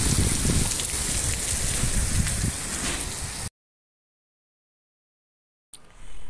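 Heavy rain mixed with small hailstones pours down in a loud, dense, steady roar, then cuts out abruptly to silence before the downpour returns more softly.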